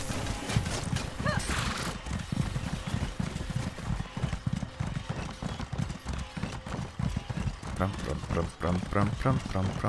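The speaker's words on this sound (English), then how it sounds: "Horse." Horse hooves clip-clop in The Elder Scrolls Online, a steady trotting rhythm mixed with occasional whinnies, running under game music and a voice speaking over it.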